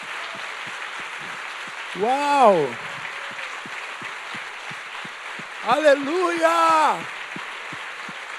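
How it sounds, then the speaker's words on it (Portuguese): A church congregation at a Sunday worship service claps in a steady, rhythmic pulse, moderately loud, while voices shout out excitedly over it. "Dê um aplauso bem forte ao Espírito Santo de Deus."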